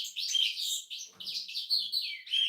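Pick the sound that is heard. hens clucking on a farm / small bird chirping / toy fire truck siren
small bird chirping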